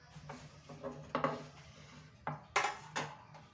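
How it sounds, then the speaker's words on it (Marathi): An onion sliced thinly with a kitchen knife: quiet, irregular knife strokes and taps, around eight distinct cuts spread across a few seconds, close and soft with no speech. "कांदा जो आहे आपल्याला पतला असा कापून घ्यायचा आहे"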